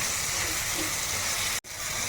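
Spices with turmeric, salt and chilli powder frying in a pan, a loud steady close hiss that cuts out for an instant and then carries on.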